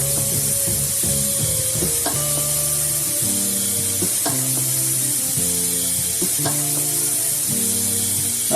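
Sofrito aromatics and herbs tipped from a bowl into a hot pan for a vegan meal, sizzling steadily and loudly throughout, with clinks and scrapes of stirring punctuating the continuous frying hiss; no talking.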